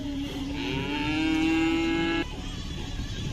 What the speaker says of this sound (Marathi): गाय वेलेले जस्ट कशा प्रकारची सुंदर कालवड झालेली पाहू शकता